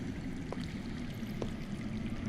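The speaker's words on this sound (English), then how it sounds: "That's water. I hear water. From underground." Water trickles and streams steadily from somewhere underground in a dry wilderness, a soft continuous low flow broken by two faint, brief clicks.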